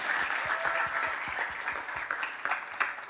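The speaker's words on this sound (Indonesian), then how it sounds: "Tepuk tangan untuk kita semua" Audience applause at a talk show event in Denpasar, a steady crowd of hands clapping with a few distinct closer claps, moderately loud throughout the short stretch.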